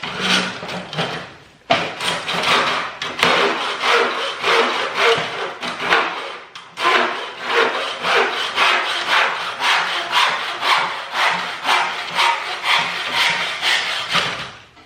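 A small, light-duty hand saw cuts clamped wood in rhythmic back-and-forth strokes, a close rasping series broken by a brief pause before the strokes resume at an even pace, with no voices over it.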